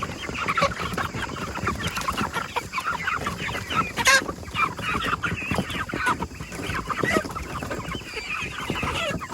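A flock of chickens clucks and chatters continuously nearby, with a sharper squawk standing out partway through.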